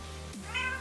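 One short meow from a cat, fairly quiet, over a steady low hum.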